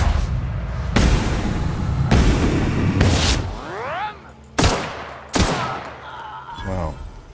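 Several loud gunshots ring out in close succession in The Outer Worlds, each sharp bang followed by a short tail, with intermittent bursts across the passage.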